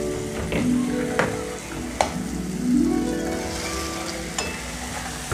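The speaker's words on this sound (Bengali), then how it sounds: "এবার আমার মাছগুলো দিয়ে দেওয়ার পালা।" Pieces of stingray fish go into hot tomato and oil masala, frying with a steady broadband sizzle and a few sharp clanks of a utensil on the pan, close and fairly loud, with no talking.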